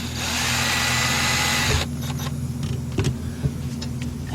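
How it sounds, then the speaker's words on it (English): A power drill whirs steadily as it drills out a front strut on a 2008 Ford Fusion, running loud for nearly two seconds and then stopping, followed by a few clinks and knocks of metal. "Now we're gonna slowly try to drill this out."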